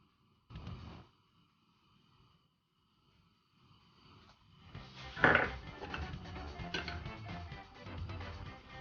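Cooking oil poured into a pan on the stove while making moong masoor dal: a short clatter, a pause, then a steady rush of pouring and pan noise with faint clinks, close and fairly quiet.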